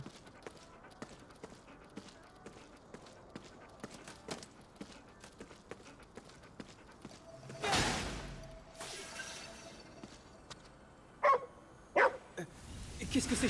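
Dogs wearing bandanas bark in Ghostwire: Tokyo, a few sharp, fairly close barks near the end over steady game ambience and light footsteps, with a brief whooshing burst in the middle.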